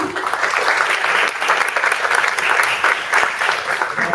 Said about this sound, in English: That's a round of applause, please.